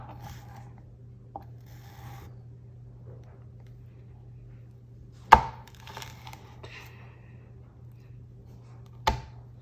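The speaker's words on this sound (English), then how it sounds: "And then I'm going to cut it into strips." A knife cuts a cactus pad into strips on a cutting board, giving soft scraping strokes and two sharp, distinct knocks against the board over a steady low hum, with no talking.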